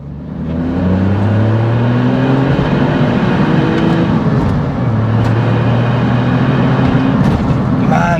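A remapped Smart 451 Brabus pulls hard in second gear, its engine rising in pitch with a steady loud drone inside the cabin, briefly dipping midway before climbing again, with a voice partly over it.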